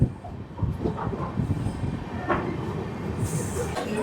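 Rumbling train noise as it reaches Rampurhat station, with rattling carriages and wheel clatter, fairly close and continuous, with brief metallic squeals and clanks.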